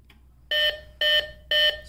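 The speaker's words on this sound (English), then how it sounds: "Speaker will give 3 beeps in order to indicate that the dielectric test has started." Three evenly spaced electronic beeps from a Rish Insu 5Dx+ insulation tester marking the start of a dielectric discharge test, each short, loud and shrill, separated by brief pauses.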